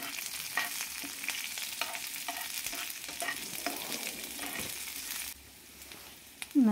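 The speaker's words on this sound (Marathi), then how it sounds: "लसूण छान लाल होत आला की हिरवी मिरची टाकायची त्याच्यात" Garlic and green chilies fry in a pan for lasuni bhendi, a continuous close sizzle broken by stirring scrapes, with the frying dropping quieter near the end.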